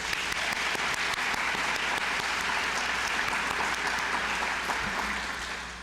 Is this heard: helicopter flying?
no